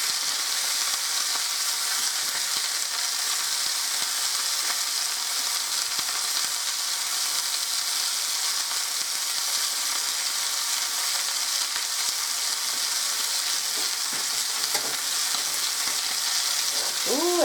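Steak sears in a frying pan with a steady, close hiss of sizzling fat that runs unbroken throughout. No voices are heard.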